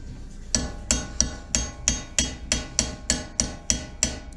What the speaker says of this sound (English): we gotta start banging on that cotter pin